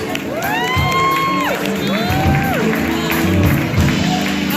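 First-time attendees at a spoken word and music show cheer and clap, with rising and falling whoops and shouts over a loud crowd.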